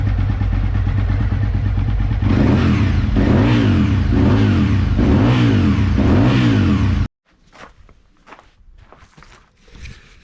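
An Aprilia RSV Mille Haga Replica motorcycle engine revs loud and close, rising and falling in several repeated throttle blips over a steady idle, then cuts off abruptly, leaving faint handling noises.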